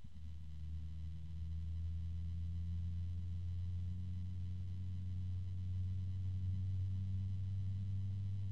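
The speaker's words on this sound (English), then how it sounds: "I'm starting to hear a low hum." A Bitfenix Spectre Pro 140mm LED fan gives off a steady low hum with a faint resonant tone. It is quiet and continuous, with no talk over it.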